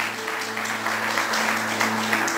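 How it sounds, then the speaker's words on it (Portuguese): Church congregation clapping during a sermon, a soft continuous patter of applause under a low steady hum, fairly distant and modest in volume. "Você pode aplaudir ao Senhor, glória a Deus, aleluias."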